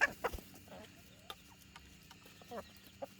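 Chickens clucking near a forest edge in rural Thailand, a few short bursts at the start and scattered calls after, fairly faint and mostly alone.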